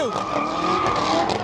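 Tires squeal in long sustained screeches during burnouts at a legal car meet, with engine roar underneath, loud and close, a voice briefly audible in the background.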